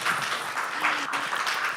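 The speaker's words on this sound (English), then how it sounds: "Can we just have a round of applause for all of our speakers?" An audience at a community health talk applauds the speakers, a short steady patter of clapping heard at moderate distance with some speech mixed in.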